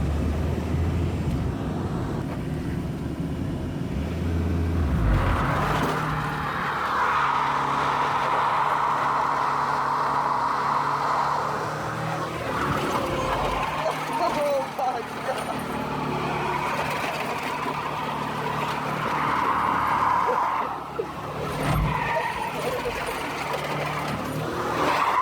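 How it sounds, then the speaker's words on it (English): Stripped-out Volkswagen diesel car spinning its wheels on a cold day, a loud sustained roar of engine and tire noise that swells and surges twice, close and continuous without talk. "it just does a lot of wheel spin"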